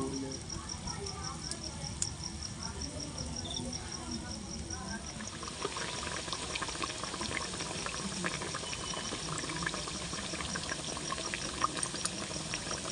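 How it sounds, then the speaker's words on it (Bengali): Tel pitha, a rice cake, deep-fries in white oil in a wok, giving a continuous bubbling, crackling hiss that thickens partway through as the batter hits the oil, with no voices. "কড়াতে এবার তেল দিলাম, সাদা তেলে তেল পিঠেটা ভাজবো"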